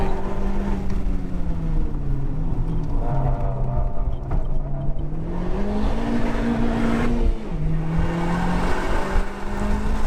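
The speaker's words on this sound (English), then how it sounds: "it loses traction in second gear when you floor it with traction control completely off" A Honda Civic Type R (FK8) at Summit Point Raceway accelerates hard in second gear with traction control off, loud engine drone rising and falling steadily over ten seconds with a tire-scrubbing, wavering tone riding on top.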